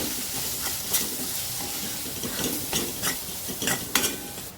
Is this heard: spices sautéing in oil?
yes